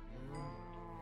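A cow in the Minecraft video game gives one short, faint, low moo, heard alone.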